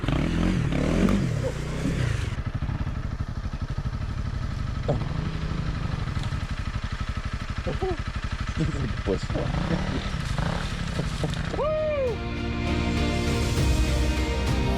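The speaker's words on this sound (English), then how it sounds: "We got another water crossing. It's getting warmed up." Honda CRF300L Rally motorcycle crossing a creek, its engine running and revving steadily throughout, close and loud, with water sloshing and a few brief voices over the motor.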